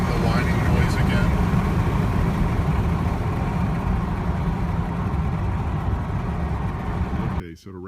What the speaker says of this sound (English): So now it's jerking, it's making the whining noise again.